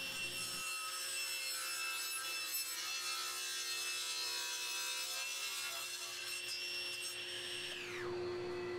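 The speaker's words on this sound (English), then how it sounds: "now I could just clean up the edges over at the table saw and square up the board" A table saw squares up the edges of a wooden end-grain cutting board with a continuous whirring cut and a high whine, then the blade spins down near the end. No one talks.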